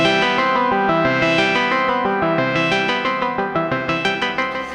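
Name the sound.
Synthstrom Deluge synth with LFO-modulated filter cutoff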